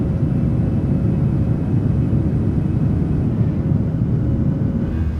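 Boeing 737-800 climbing out of Las Vegas in Microsoft Flight Simulator 2020 with the Boris sound pack, a loud, steady low engine rumble and roar with a faint high whine, continuous and close, with no talking.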